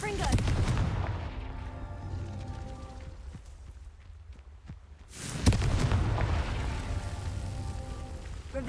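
A Confringo spell blast from the game Hogwarts Legacy lands as a booming fiery burst, then a rumble that fades out. A second loud blast hits after a quieter stretch.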